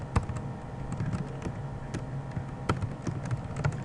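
A computer keyboard clatters as C# code is typed, quick irregular clicks and taps with a few sharper keystrokes, close and steady without talk.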